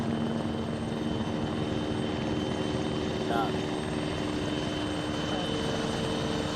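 A helicopter in the Arma video game, a president's transport, drones loudly and steadily with a constant rotor and engine roar throughout, with muffled voices beneath it.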